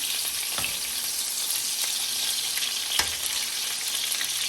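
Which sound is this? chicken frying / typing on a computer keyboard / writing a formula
chicken frying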